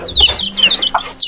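A hen's short clucks and chirpy calls, close and fairly loud, in quick irregular bursts over a brief moment; a black hen on a small farm.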